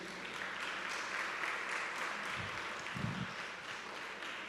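A church congregation applauds twelve people in a steady, fairly quiet wash of clapping, with a couple of low thumps partway through.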